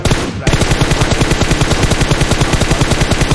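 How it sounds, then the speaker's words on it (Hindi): Automatic gunfire in the PUBG Mobile battle royale game: after a brief lead-in, a loud, close, rapid and evenly spaced burst of shots runs without a break. "फिर बाद में ऊपर से गोली चलती है, जो बुलेट चलती है"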